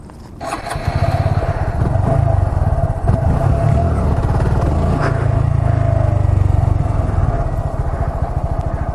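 Motorcycle engine revving hard at full throttle as the clutch is dumped for a wheelie attempt, a loud, steady, high-revving roar close by that holds for several seconds with a slight rise and fall.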